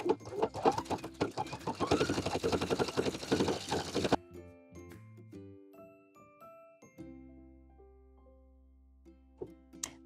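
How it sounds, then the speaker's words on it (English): A sewing machine edge-stitches around a fabric bow tie, running in a fast, dense mechanical chatter for about four seconds before stopping, followed by soft musical tones and a faint click near the end. "So we're just gonna edge stitch all the way around."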